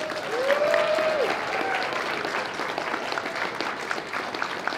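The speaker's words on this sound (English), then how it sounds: "can we have one more big round of applause for the other performers out here tonight?" Audience applause at a furry variety show, a dense sustained wash of clapping from a large crowd, loud and steady, with a brief cheer or whistle near the start.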